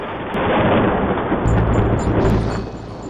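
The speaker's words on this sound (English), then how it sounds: "these lightning and thunder towers seem to be very effective against the elephants" A lightning and thunder tower attacks in the tower-defense game Zombie Tower on an iPad, producing a loud, dense rumbling crash that swells and holds for about three seconds before easing off.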